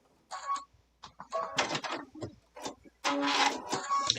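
Close up, a sewing machine runs in short, quick bursts while stitching a wide seam on a fabric scissor keep, with brief pauses and small mechanical clicks between the runs.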